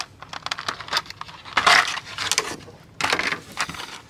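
A taped cardboard toy box is opened and handled, with crackling cardboard, tape tearing and rattling plastic parts inside, coming as close, irregular bursts.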